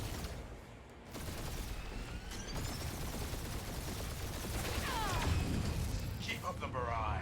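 Sustained barrage of gunfire and blasts in the video game Guardians of the Galaxy, a dense rumbling stream of shots with whizzing effects, steady and loud throughout with no clear gaps.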